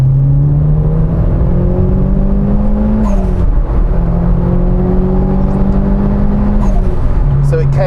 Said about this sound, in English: I'm going to have to give it a little squirt, Scott, because it does sound very good.